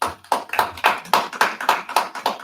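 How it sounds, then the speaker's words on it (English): A small group claps at a school board of education meeting, nine or ten distinct, fairly even hand claps in a steady rhythm, close and clear with no talk. "Gotta clap for my Dodge people, man."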